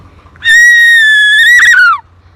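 A child's high, sustained whinny-like cry imitating a horse, rising sharply then sliding down at the end, loud and close.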